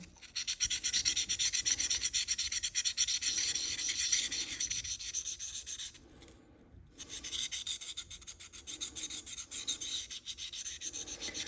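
A knife blade scrapes repeatedly across a Sharpal 1200 grit field sharpener, close and crisp, in a fast rhythmic rasp of strokes with a brief pause midway before the strokes resume.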